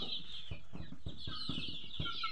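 Local and Sonali chickens on a small farm cluck softly in a steady run of short calls, fairly faint and close, with no talk.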